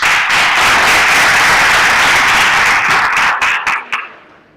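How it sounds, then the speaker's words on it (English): Audience at a work readiness training session breaks into loud, dense applause that holds steady and then tapers off into scattered claps and silence. "Can we give her a hand of applause?"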